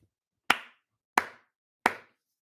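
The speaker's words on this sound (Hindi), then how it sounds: "तालियां होती है तुम लोगों के लिए" Three sharp, loud single claps spaced about two-thirds of a second apart, each ringing out briefly in an otherwise quiet space.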